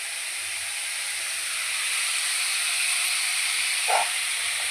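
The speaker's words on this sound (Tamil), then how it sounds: "இப்போ வெங்காயம் வதங்கிக்கிட்டு இருக்கு." Onions sautéing in a pan with rock salt give a soft, even sizzle and hiss that holds steady throughout, with one brief faint clink near the end and no talking.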